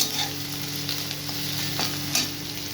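Chopped tomatoes are stirred into a sizzling prawn and potato curry in a pan, giving a steady close sizzle with scraping stir strokes rising through it.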